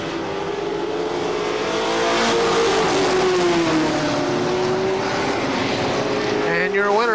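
Legends cars race through the final lap at KilKare Speedway, engines roaring loudly and rising and falling in pitch as the pack sweeps past, with a sharp revving surge near the end and an announcer talking over the noise.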